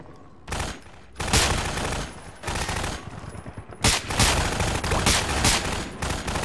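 Pistol gunfire in the Half-Life 2 mod of Garry's Mod, loud dense volleys of rapid shots in close succession, almost continuous over the whole stretch.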